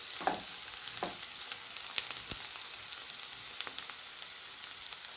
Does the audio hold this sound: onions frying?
yes